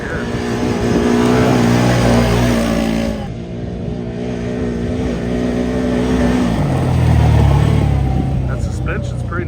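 Engine of a Can-Am Commander 1000X side-by-side droning steadily while riding, its pitch shifting as speed changes, loud and close throughout with wind and jolting noise and people talking over it.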